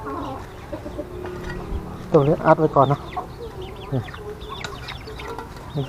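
Chickens and young chicks cluck in a short burst of repeated calls, fairly close, on a farm that also keeps ducks, with someone talking over the birds.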